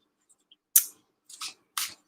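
Tarot cards are shuffled quietly, giving three short crisp riffling bursts, each preceded by faint small taps, alone in an otherwise silent room.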